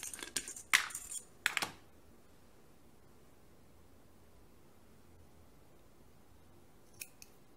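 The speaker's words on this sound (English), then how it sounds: "pull it tight and snip it off." Scissors snip off knitting yarn after a surgeon's knot on a loom-knit shawl-collar pullover, giving three quick crisp cuts close by at the start, then a long near-silence and one faint click near the end.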